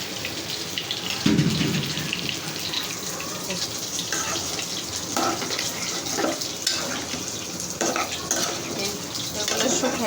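Soya chunks tipped into a pan and stirred, a steady busy clatter of utensil against metal with frying noise underneath, continuous and fairly loud throughout.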